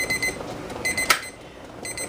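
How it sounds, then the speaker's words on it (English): A kitchen timer goes off after a boiling water bath for canning jelly, sounding rapid high electronic beeps in short bursts with a brief pause, fairly close, over faint room noise. "when your timer goes off, after 10 minutes, you remove them"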